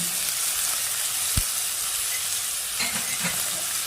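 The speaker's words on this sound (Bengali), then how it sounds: "এবার আমি মশলাটাকে ভালো করে কষিয়ে নেব।" Ground cumin, turmeric and chili powder fry in a pan, a steady hissing sizzle with one sharp knock and a few soft stirring scrapes near the end.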